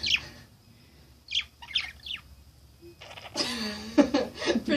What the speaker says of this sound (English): Presenting birds.